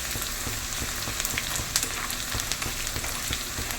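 Fenugreek seeds and onions frying in oil for a Kerala-style coconut-ground curry, a dense, crackling sizzle with scattered pops, steady and close throughout.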